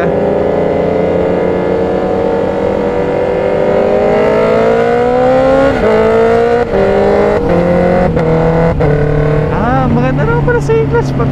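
A Honda CB650R motorcycle engine revs during a ride with no clutch. A loud, steady tone rises and falls through several throttle blips near the end, and someone speaks over it.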